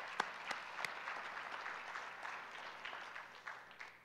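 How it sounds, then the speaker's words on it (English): An audience applauds at a Grad Slam final round event, a soft, steady patter of many hands with a few sharper claps standing out early, fairly faint and distant throughout. "Round of applause."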